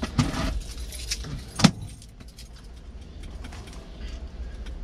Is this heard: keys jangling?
yes